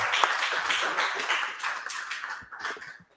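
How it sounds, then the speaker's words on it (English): Closing applause from a conference audience at an academic event on Roman congregations in the early modern world. Fairly close, dense clapping runs for about three seconds and then tapers off abruptly. "a final applause for all of you"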